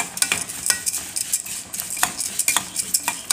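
Vermicelli frying in ghee and oil in a pot is stirred with a metal spoon, giving rapid close scraping clinks over a soft sizzle.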